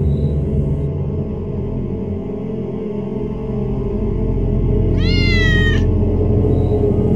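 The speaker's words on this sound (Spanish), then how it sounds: "Y otro gatito." A cat meows once, a rising then falling wail at moderate distance, inside an abandoned train station over a steady low background hum.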